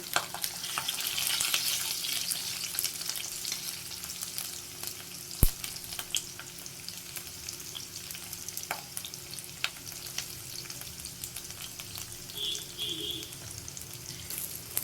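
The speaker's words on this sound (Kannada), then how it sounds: "ಇದನ್ನು ಹಾಕೊಂಡು ಸ್ವಲ್ಪ ಫ್ರೈ ಮಾಡ್ಕೊಬೇಕು." Chicken chops fry in a pan with a steady, soft sizzle and crackle at moderate distance, broken once by a sharp click, with no talking heard.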